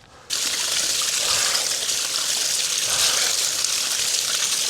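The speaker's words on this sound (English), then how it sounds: "I just poured it out there." A litre of carried drinking water poured out onto the ground on a Scottish mountain ridge hike, a steady splashing trickle that starts abruptly and runs on continuously, close and fairly loud, with no talk.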